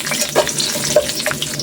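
Ginger sizzling in hot cooking oil in a pan, a steady close crackle with a few brief louder pops, no talk.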